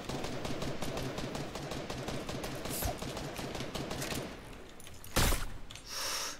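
Video game gunfire rattles in rapid repeated bursts, loud and close for several seconds, then breaks off into a single sharp blast and a brief noisy burst.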